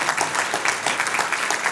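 An audience claps after a RoboCon 2024 conference talk, a dense, even round of applause filling the room throughout.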